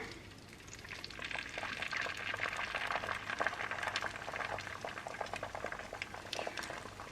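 A whisked egg mixture with mixed bits cooks in a cast iron pan, bubbling and sizzling steadily at close range with no talking.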